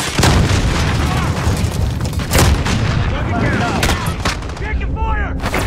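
Heavy gunfire crackles through a Call of Duty Modern Warfare match, with rapid shots and booming impacts layered under game voice callouts, loud and continuous.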